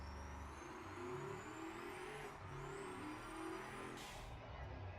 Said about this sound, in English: So we can take it to the test track. We'll do a lap and see what it does.